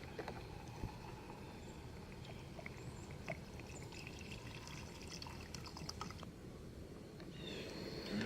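Water pours faintly into a metal canteen cup while making chicken noodle soup with bouillon, a soft, steady trickle under low background hiss.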